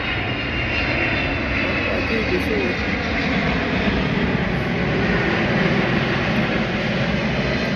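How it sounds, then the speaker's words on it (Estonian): A fixed-wing airplane passes overhead with a loud, steady engine drone that fills the whole stretch while a person speaks briefly over it. "Ai, lennuk tuleb."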